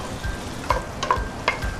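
Meat and onions sizzling and frying in a pan while cooking borscht, a steady close crackle with a few sharper pops and stirring clicks, no talking.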